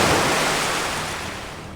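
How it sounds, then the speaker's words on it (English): A loud rush of water washes across a ship's deck, a broad hiss that starts strong and slowly fades away. "a wave of water passes over the deck"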